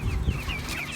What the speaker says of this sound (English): day 61 on these Cornish Cross broiler meat birds